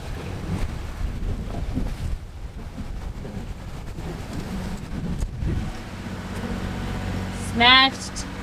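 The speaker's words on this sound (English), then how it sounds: "Like 25 knot winds right now, which is the most we've ever been in." Strong 25-knot wind rushing across a sailboat at sea, a steady roar of gusts and buffeting against the microphone with water noise beneath, plus a brief squeaking sound near the end.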